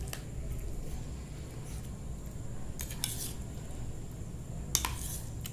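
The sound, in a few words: mixing curd with sev and sauce on dahi samosa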